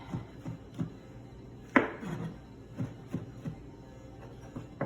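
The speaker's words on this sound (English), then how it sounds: "I'm just gonna cut them in half and they're in slice" Knife slicing mushrooms on a board in a community kitchen, a series of soft irregular chops, fairly close and quiet, with one sharper cut standing out.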